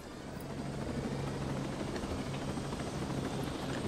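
A big helicopter flies in the video game Ghost Recon Breakpoint, its rotor giving a continuous, dense, even whirring roar at moderate level throughout, with no voices.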